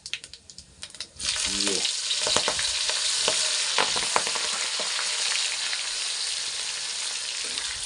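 Cumin seeds drop into hot oil in a pan and burst into a loud, steady sizzle after a few quiet taps, with small crackles and pops running through the continuous frying hiss.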